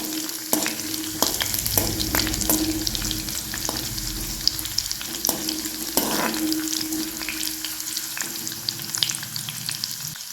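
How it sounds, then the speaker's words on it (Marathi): Mustard seeds and cumin fry in hot oil, giving a continuous close sizzle with scattered sharp crackles and pops and some stirring, no voices. "त्याच्यात थोडीशी मोहरी टाकूया, थोडासा जिरा, हे सर्व आपल्याला छान असं लाल भाजून घ्यायचं।"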